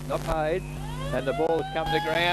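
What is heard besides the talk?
end-of-quarter siren at Australian rules football ground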